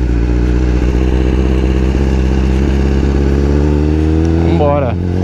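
A Honda CBR 1000 RR-R sport bike with a newly changed exhaust rides along a waterfront road, its engine droning loud and steady with a voice over it, then rising in pitch near the end.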